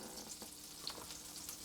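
Chicken breasts frying in a pan, three at a time, giving a faint, steady sizzle with small crackles.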